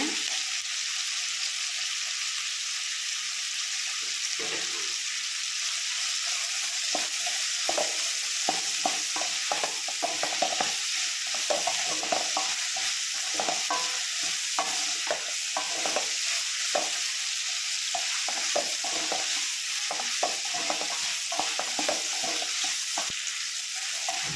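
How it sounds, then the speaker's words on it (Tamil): Fried okra being stirred into a tamarind gravy in a pan, with a continuous close sizzle broken by repeated scraping spoon strokes, steady and busy throughout, with no talking. "ஃப்ரை பண்ணி வச்ச வெண்டைக்காய் போட்டுக்கலாங்க"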